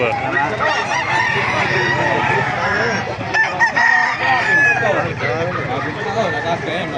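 Roosters crow repeatedly at a busy gamefowl market in Baliuag, with clucking fowl and constant chatter of people talking around the birds.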